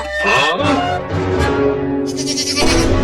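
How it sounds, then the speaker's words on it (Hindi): Goat kid bleating in a Hindi children's cartoon, a loud, close run of wavering cries lasting about three seconds with a brief break near the start, no talking. "अरे वाह बकरी का बच्चा"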